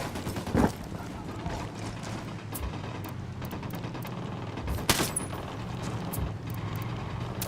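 Automatic rifle fire rattles in a Ghost Recon Wildlands firefight, steady crackling volleys with a couple of sharper, louder shots standing out over a constant dense background.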